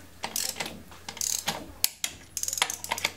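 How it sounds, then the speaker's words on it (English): A torque wrench tightening wheel spacer lug nuts, close-up bursts of quick ratcheting clicks in several short runs with brief pauses between them. "go ahead and torque them to spec"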